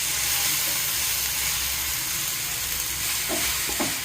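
Cardamom pods stirred in a hot pan, a steady dry sizzle and hiss with scraping stir strokes near the end, close and continuous with no talking.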